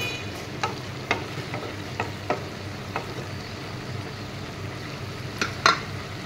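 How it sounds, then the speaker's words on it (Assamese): Four boiled eggs being turned over and stirred in a frying pan, giving scattered soft scraping clicks and light sizzling, close and fairly quiet, with no talking. "কণী বইল কৰি লৈছোঁ 4টা ইয়াতে দি দিছোঁ এনেদৰে তলপৰ কৰি লৰাই দিছোঁ"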